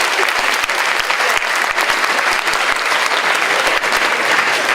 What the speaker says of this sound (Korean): 다시 한 박수 한번 주시기 바랍니다.